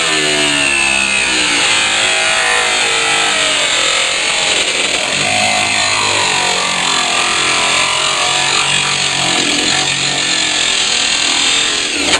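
A Chevrolet Monza engine, stored in a barn, cranks and runs loudly and close by with a steady, harsh roar throughout, with no talk.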